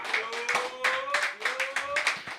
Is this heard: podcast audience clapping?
yes